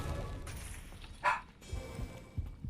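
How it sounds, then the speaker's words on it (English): Several dogs bark indoors, a few short yips and barks scattered over a couple of seconds, one louder bark standing out, partly under background noise. "I apologize if you hear my dogs right now"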